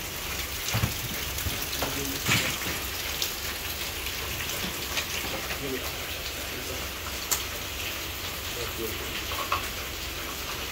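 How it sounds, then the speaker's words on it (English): Steady rain hisses down on a surface in Malagos, Davao City, Philippines, with scattered louder drips and taps, a continuous wash of noise with faint voices now and then. "It's raining."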